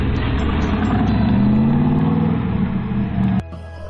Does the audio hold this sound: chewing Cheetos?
no